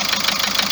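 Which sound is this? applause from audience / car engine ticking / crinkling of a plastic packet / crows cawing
car engine ticking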